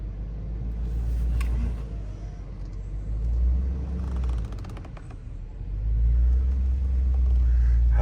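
A Land Rover that had sat dead for five months rolling forward, its engine a low rumbling drone that swells and eases with faint mechanical creaks, close and steady throughout.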